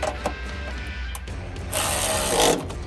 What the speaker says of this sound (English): we are going to hand tighten this finally on, and then we are going to tighten it down